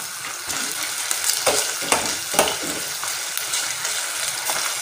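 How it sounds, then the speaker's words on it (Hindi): Chicken macaroni is stirred in a hot pan, with a steady sizzle and soft scraping strokes of a spoon, close up and with no talk. "इसको अच्छी तरह चलाएंगे।"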